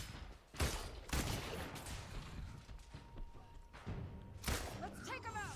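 Turret gunfire in the Marvel's Avengers video game, a few loud sharp bursts separated by pauses over a dense bed of combat noise, with brief voices.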